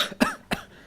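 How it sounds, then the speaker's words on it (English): Two short, sharp coughs, the first stronger, separated by a brief pause, close to the listener with nothing else around them. "a couple coughs."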